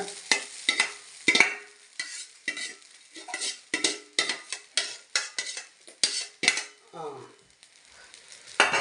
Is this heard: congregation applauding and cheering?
no